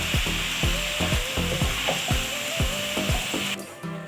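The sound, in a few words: Maggi noodles with capsicum being fried and stirred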